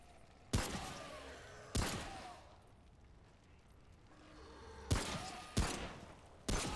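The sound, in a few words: gunfire in video game Remnant: From the Ashes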